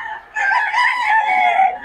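A rooster crows once in a single long, loud call at a bustling market stall, rising sharply after a brief quiet start and holding steady to the end with no talk over it.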